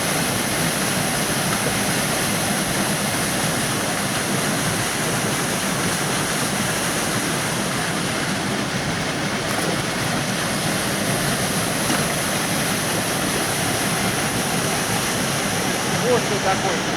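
Sakhray waterfall on the Sakhray river in Adygea roars steadily as a loud, unbroken broadband rush of falling water that fills the whole stretch.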